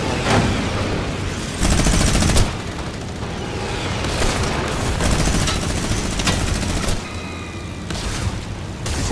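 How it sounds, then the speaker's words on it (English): Gunfire and blasts in a Fortnite match crackle almost continuously, with heavier booming hits standing out near the start, a steady, close and busy battle sound without speech. "so are you ever shooting at me?"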